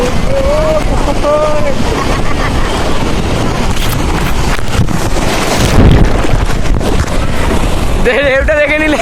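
Sea waves surge and wash at Digha beach under loud, buffeting wind noise on the microphone, with voices briefly audible near the start and again at the end.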